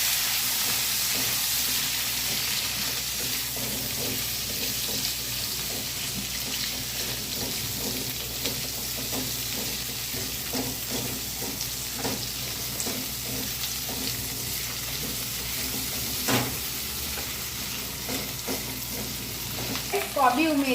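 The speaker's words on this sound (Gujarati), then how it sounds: "હવે કેપ્સિકમ એડ કરી દીધા અને હું 2 મિનિટ સોટે કરી લઉં." Capsicum sautés in a pan with cumin seeds, giving a steady close sizzle and frying hiss with irregular scrapes and clinks of a stirring spoon throughout.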